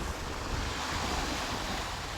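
Continuous roar of surf and large waves breaking on the shore of Manila Bay's Dolomite Beach, with wind noise buffeting the microphone, loud and unbroken throughout.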